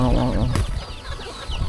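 Chickens clucking in a rural Lao village, a short burst of low clucks close by at the start, with people talking over the rest.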